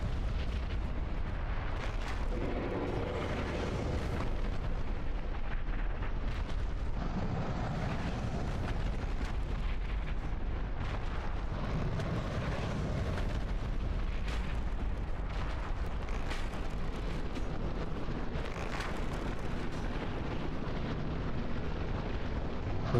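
Firebomb explosions in Dark Souls Remastered, heard as a dense, continuous roar of booming bursts and crackle, loud and sustained throughout with no talk.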